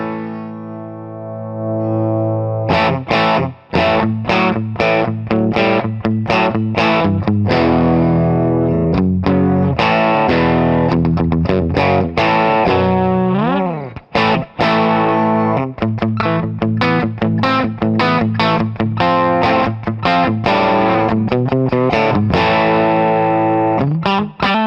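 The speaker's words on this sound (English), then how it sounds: "Sounds like a Strat with a humbucker in it." Electric guitar built as a Fender Stratocaster-Telecaster hybrid with a humbucker, played loud through distortion and effects, dense chords and riffs with a brief bend, continuous and close.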